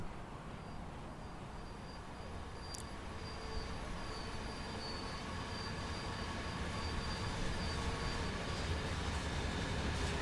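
Average-length freight train running in Train Sim World 6, producing a continuous rumbling roll of wheels and wagons that builds slightly in loudness, with a faint high whine and a brief sharp squeal.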